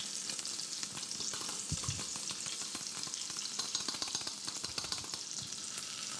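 Shallot frying in foaming butter in a pan, a steady close sizzle with soft stirring scrapes, no voices.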